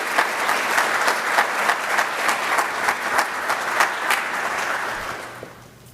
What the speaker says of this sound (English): let's give our applause for Ken Frazier and Shalvi Singh